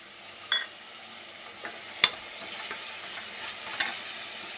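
Noodles fry in a pan with vinegar added, giving a steady sizzle broken by a few sharp scraping and clinking hits of a utensil against the pan.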